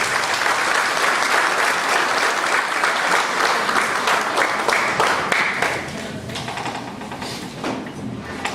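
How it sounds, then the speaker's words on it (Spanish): Audience applause at a law event honouring the head of Peru's national council of bar association deans, a loud sustained roar of clapping from a large crowd that eases slightly toward the end. "Fuerte las palmas"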